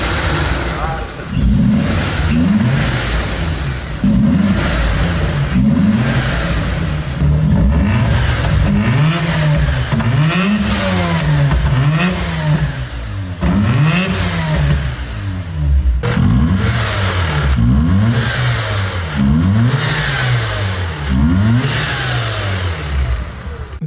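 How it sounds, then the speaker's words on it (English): A Mazda RX-8's 13B rotary engine revs repeatedly through a short six-speed gearbox, climbing in smooth rising sweeps and dropping back, a steady series of high-revving pulls heard from inside the car with some talk underneath. "This is the sound of a living 13B, an engine that spins different from any other, smooth, linear, no vibration."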